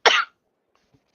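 One short, sharp cough bursts out close to the microphone, followed by near silence.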